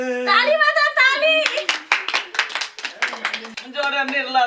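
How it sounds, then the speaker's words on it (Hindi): Rhythmic hand clapping in a Maithili comedy scene, a run of sharp close claps between bursts of spoken voices, loud and near. "ताली बजा ताली"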